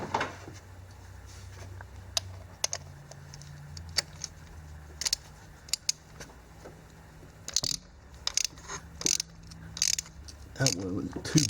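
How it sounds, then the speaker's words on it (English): A socket wrench with a rubber-grommet spark plug socket ratchets a stuck plug out of a car engine, giving scattered sharp clicks and short ratcheting bursts over a low hum, close and fairly quiet. "socket wrench, spark plug wrench with a grommet in it that holds these spark plugs in place"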